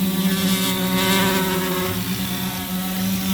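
The motors of an S500 fishing bait drone spin up for liftoff, a loud, steady, close buzzing drone with strong tonal harmonics that holds throughout, with no talk.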